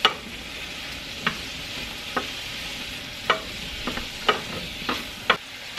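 Summer squash and tomatoes, heavily salted, get stirred in a sizzling pan, with a steady run of close, sharp scraping strokes every second or so over a constant frying hiss. No one speaks.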